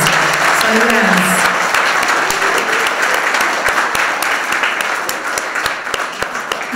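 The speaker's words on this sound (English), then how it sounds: "they deserve a very loud round of applause" Loud, sustained applause from a crowd fills the whole stretch, with dense clapping that gradually thins a little toward the end.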